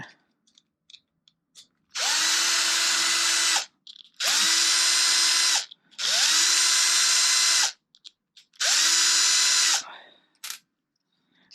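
A power drill backs bolts out of an Arrma Limitless V2 RC car in four loud whirring bursts of about two seconds each, separated by short quiet gaps with small clicks and handling noises.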